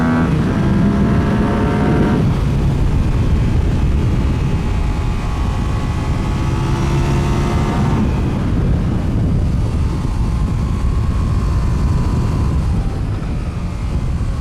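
A Yamaha R7 motorcycle ridden hard around a race track, its engine a loud continuous drone with rising and falling pitch through gear changes, mixed with heavy wind rush throughout.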